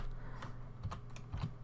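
Quick, uneven typing on a computer keyboard, with soft clustered key clicks and a few heavier keystrokes over a low steady hum, close and fairly quiet.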